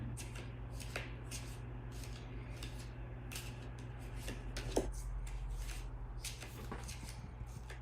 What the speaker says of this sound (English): I'm going to edit out all the shuffling besides the one shuffle that I do where you see me pull the card